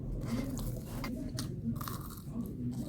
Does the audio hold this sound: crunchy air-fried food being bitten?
yes